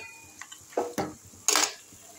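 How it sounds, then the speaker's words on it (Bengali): A spoon stirring fish head and pui shak leaves in a cooking pot for a Bengali recipe, a few brief scraping and clinking strokes close by, with quiet pauses between them. "এগুলো সব নাড়াচাড়া দিয়ে দিচ্ছি।"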